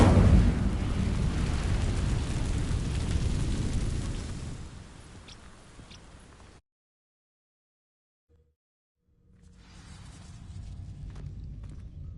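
A roaring burst of flame from the Incendio fire spell catching dry vines in Hogwarts Legacy, loud and broad at first, then fading into quiet before a softer crackle returns.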